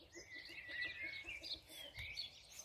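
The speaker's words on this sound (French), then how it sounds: "Qu'est-ce que c'est agréable d'entendre le chant des oiseaux" Birds sing outdoors in a nearby bird chorus, with repeated chirps and warbling phrases running continuously at a moderate level and no talking.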